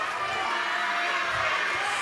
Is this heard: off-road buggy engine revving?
no